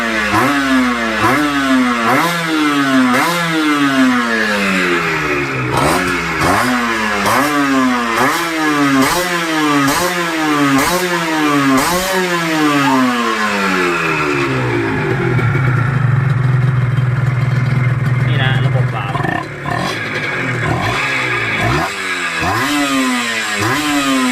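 A Honda NSR two-stroke motorcycle on a short test ride, engine loud and close, revving up and down in repeated rising sweeps through the gears before settling to a steadier drone.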